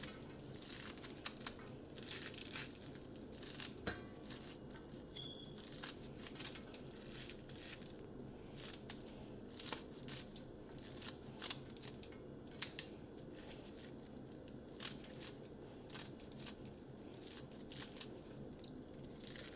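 A knife roughly chops fresh spinach leaves on a cutting board for dal palak, giving faint, irregular crisp cuts and crunches with steady quiet background, no talking.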